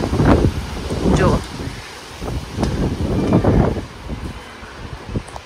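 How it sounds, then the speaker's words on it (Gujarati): Hot wind during a 43-degree heatwave in Australia shakes the trees, heard as rough, gusty roaring and buffeting against the microphone that swells and fades in uneven bursts. Someone talks over it. "જો પવન જો આ બધા ઝાડ એકદમ હલે છે"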